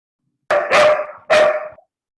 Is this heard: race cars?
no